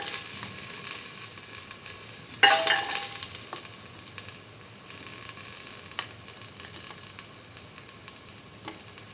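Garlic dropped into a hot pan bursts into a loud sizzle that fades to a steady, quieter frying crackle, with a few small clicks of stirring.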